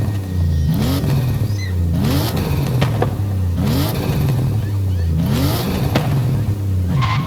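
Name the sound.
Toyota Chaser 1JZ exhaust crackle revving, Forza Horizon 5 video game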